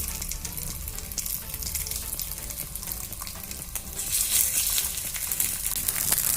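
Sabudana vada frying in an oiled old-style clay paddu pan, a steady close sizzle and crackle that grows louder partway through, with no talking.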